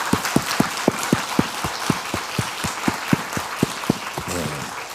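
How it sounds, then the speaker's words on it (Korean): A church congregation claps in a steady, rhythmic unison beat, sharp evenly spaced claps ringing through the sanctuary for several seconds before fading into a brief voice at the end. "주님께 영광의 박수 올려드립니다"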